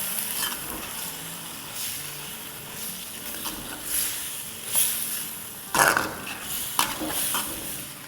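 Steak pieces stir-frying with spices in a pan sizzle steadily, with a spoon scraping and clattering against the metal in occasional louder knocks.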